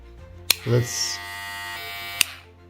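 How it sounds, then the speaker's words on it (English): A cordless hair clipper switches on with a click and runs with a quiet, steady electric hum before clicking off. "The clipper has advanced noise reduction technology, and the operating noise is extremely low, as you could hear."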